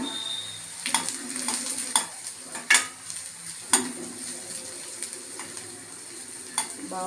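Onion frying in a pan with cumin, black pepper and garlic powder added, a soft sizzle broken by sharp metallic clinks and scrapes of a spoon against the pan.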